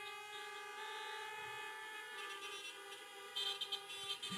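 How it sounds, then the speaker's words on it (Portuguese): Car horns honk through a drive-in church service, a sustained tonal blare with several overlapping horns that swell louder near the end, with no talking. "Se você crê nisso, buzina aí!"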